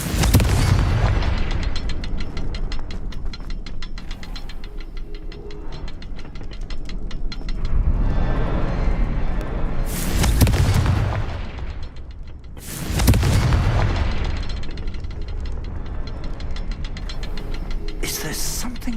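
Repeated Confringo blasting-spell explosions in a Harry Potter video game, several heavy booming bursts spaced across the stretch, loud and close over continuous game ambience, with a larger blast near the middle and another toward the end.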